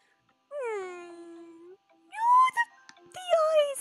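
A small dog in the video game The Royal Romance lets out a long, high, drawn-out whine, then a few shorter pleading whimpers after a pause, close and clear with no talk over it.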